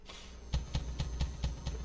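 A giant cricket creature in the survival horror game Resident Evil Zero, heard as a steady run of six evenly spaced, thumping clicks or chirps about every quarter second over a low ambient drone, with no talking.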